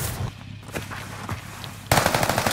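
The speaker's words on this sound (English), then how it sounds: "that way shooting at me." Rapid automatic gunfire in a multiplayer shooter video game, a burst of loud cracking shots that cuts in sharply near the end after quieter, scattered distant shots.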